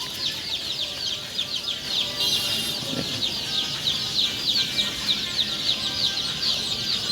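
A crowd of tiger-breed chicks chirps nonstop at close range, with many overlapping high peeps forming a dense, busy chorus and an occasional flutter.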